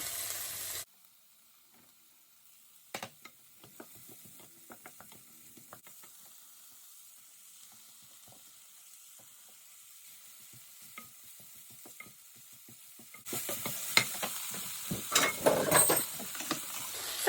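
Carrots, spring greens and peppers sizzle and scrape in a pan under intermittent stirring clatter, the frying growing louder and busier toward the end.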